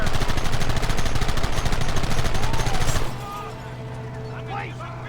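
A loud, dense volley of rapid gunfire from the Red Dead Redemption video game fills the first three seconds, then cuts off abruptly, leaving a low steady hum and faint background sounds.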